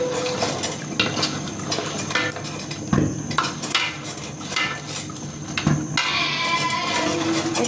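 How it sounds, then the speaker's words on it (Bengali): A spoon stirs slowly through a pot of beef nihari as flour is added, scraping and clinking against the metal with a wet, sloshing liquid sound that runs steadily throughout. "আস্তে আস্তে নাড়ছি"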